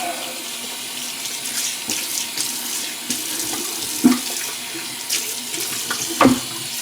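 Water runs steadily from a bathroom sink tap while the basin is rinsed out after shaving, a continuous close hiss broken by a couple of brief clunks and splashes.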